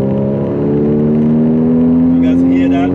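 Porsche 981 Cayman S under light throttle, its exhaust note rising steadily in pitch as the car accelerates, loud and close from inside the cabin.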